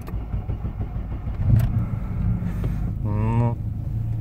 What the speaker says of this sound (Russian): Завожу я на газу.